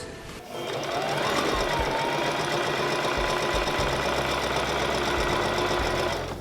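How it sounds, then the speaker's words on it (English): A sewing machine stitches the shoulder seams of a robe, running as a loud, steady mechanical whir close by that starts after a brief pause and continues unbroken, with no talking. "now we're gonna sew the shoulders"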